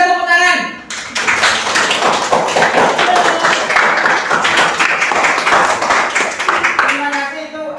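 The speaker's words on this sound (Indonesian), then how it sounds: "Kita berikan tepuk tangan." A classroom of students applauding together, a dense, steady burst of clapping lasting several seconds, with a teacher's voice just before it starts and again as it dies down.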